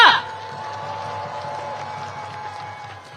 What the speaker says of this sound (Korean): 진성준 의장님께 다시 한번 뜨거운 함성과 박수 부탁드립니다